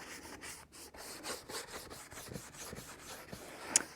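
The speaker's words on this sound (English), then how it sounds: "wipe off any excess and then buff it" Steady rubbing strokes of a cloth buffing black wax over the painted surface of a wooden cheese box, close and fairly quiet, with a rhythmic brushing texture and one small tap near the end.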